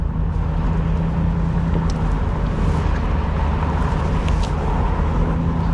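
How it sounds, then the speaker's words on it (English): A 1977 Triumph Stag with its 3-litre V8 burbles steadily while driving, a low continuous engine rumble heard from inside the car with some road and wind noise. "listen to this lovely burble of the Triumph 3-litre V8"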